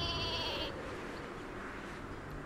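Minecraft sheep bleating in the video game, a short bleat near the start over a steady busy background of game sound.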